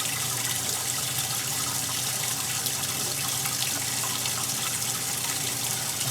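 Water gushes steadily from a tap at full pressure, filling a tank while a camper's plumbing is unwinterized; a constant, loud, hissing rush with no break and no voices.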